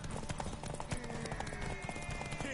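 Hooves of horses galloping in a race in the video game Witcher 3, a fast continuous clip-clop under a dense mix of crowd noise, music and faint voices.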